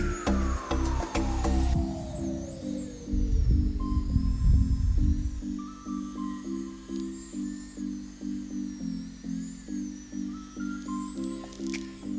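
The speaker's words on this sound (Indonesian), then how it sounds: "Di sini kita mixer sampai menteganya itu benar-benar menyatu sama adonannya ya." Electric stand mixer working butter into bread dough, a pulsing mechanical whir with a rhythmic throbbing beat, louder and rougher at first before settling into a steady repeating churn.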